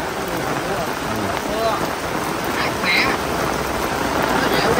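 Heavy rain falls in a steady, dense hiss at the tomb of Meritorious Artist Vũ Linh, drops drumming on nearby surfaces while voices murmur faintly underneath.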